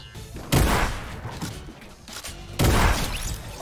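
Two bursts of rapid gunfire in the Fortnite battle royale video game, each a dense rattling volley, the first starting about half a second in and the second near the end, loud and close with no talk over them.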